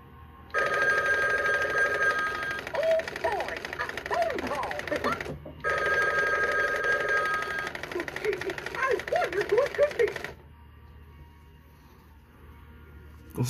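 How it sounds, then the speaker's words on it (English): An old telephone ringing after being dialed at a science and history museum: two long bursts of bright, rattling bell rings separated by a short gap, followed by quiet, with faint voices underneath. "I'm gonna dial the phone, see if Mickey answers."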